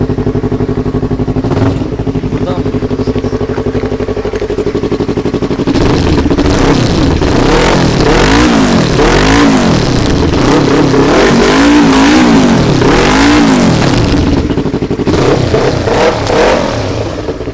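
A Yamaha R25 motorcycle engine idles with a steady rumble, then is revved repeatedly, each throttle blip rising and falling in pitch in a rhythmic series, close and loud with no talk over it.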